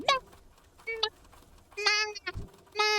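Sheep bleating in World of Warcraft Classic: several short, harmonic bleats heard clearly over near silence, with pauses between them and no speech.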